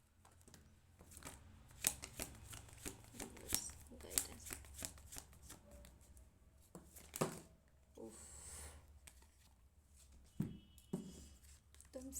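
Tarot cards are shuffled and drawn by hand during a reading, a series of close papery flicks, riffles and slides in irregular bursts over faint background hum, with a person talking at points.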